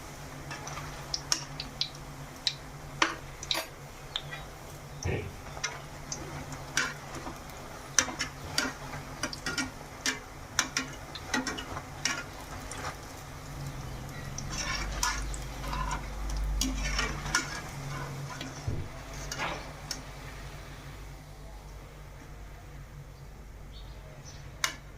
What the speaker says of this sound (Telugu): ఈ విధంగా వేసుకొని గోల్డెన్ కలర్ వచ్చేంత వరకు ఫ్రై చేసుకోవాలి